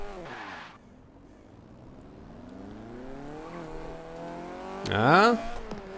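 A tuned Fiat 131 Abarth engine drives in a Forza racing game, revving through rising and falling gear pulls, then surging to a sharp high rev near the end.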